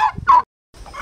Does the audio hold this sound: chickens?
yes